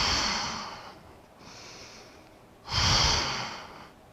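Deep breathing during a yoga pose: a long exhale fades out, a softer breath follows, then a strong inhale-exhale swells and tapers, close and alone.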